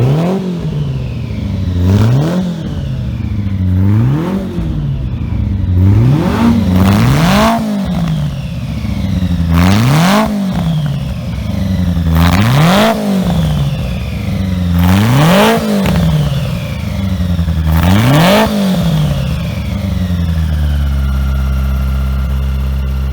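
Abarth Simca race car with a 4-speed 1300 setup of about 130 horsepower revs hard through repeated rising, falling engine sweeps, loud and close, roughly seven bursts before settling to a low idle; no talk.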